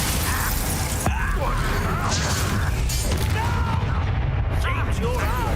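Magic spells blast and explode during combat in Hogwarts Legacy, dense booms and crackling impacts layered over a busy game soundtrack, with character voices shouting incantations throughout.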